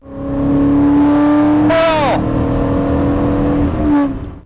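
Classic Maserati with a large 4.9 litre V8 revving loudly and close, a steady engine drone rising into a quick rev sweep near the middle, then settling back; no talk over it.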